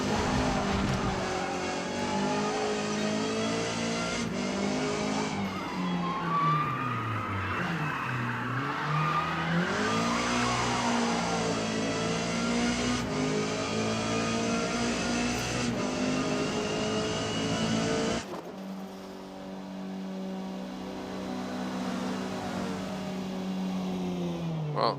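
Race car in Forza Motorsport on soft tires, engine howling continuously with rising and falling revs as the tires slip and squeal, loud and unbroken, easing to a lower drone near the end.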